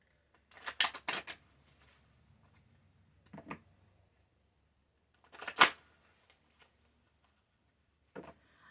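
Tarot cards being shuffled, with a few short, crisp riffling bursts separated by quiet pauses in an otherwise silent room.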